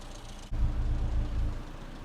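Classic Mini engine idling steadily on a rolling road, a low close rumble that starts abruptly after a brief quiet moment and then holds an even, continuous drone.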